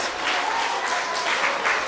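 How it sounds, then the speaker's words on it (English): Round of applause from an audience at a women's congress symposium, steady dense clapping filling the short moment without voices. "you put your hands together like this and you give a round of applause."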